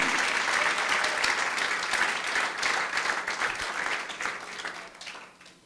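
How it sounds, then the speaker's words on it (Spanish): Loud congregation applause in a church service, a dense wash of clapping that holds steady and then thins and fades toward the end. "Dale un fuerte aplauso a Jesucristo."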